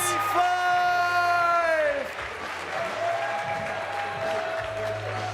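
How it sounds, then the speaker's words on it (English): A crowd at a dog show finals event applauds and cheers for canine athletes, with whoops and a long sustained shout rising over the clapping, which carries on steadily at moderate volume. "Applause! Give it up for your Dog Masters 2025!"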